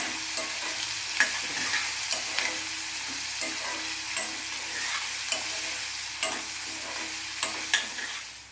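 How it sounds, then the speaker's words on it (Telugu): Onion pieces frying in a pan make a continuous bright sizzle, punctuated by regular spatula taps and scrapes as they are stirred, close and loud with no talking. "ఉల్లిపాయ ముక్కలు కూడా వేగాలండి"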